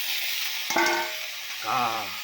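Pork frying in a pan at home gives a constant sizzling hiss, with brief voice-like tones in the background.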